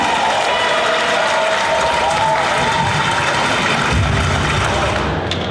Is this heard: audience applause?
yes